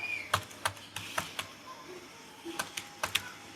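Computer keyboard keys tapped while typing web code, sharp close clicks in short irregular bursts of a few strokes each, with quiet gaps between.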